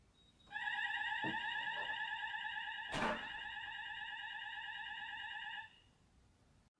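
A Hochiki ESP addressable fire alarm sounding during a system test, a steady, piercing electronic tone held for about five seconds and then cut off, with a couple of faint knocks and a thud partway through.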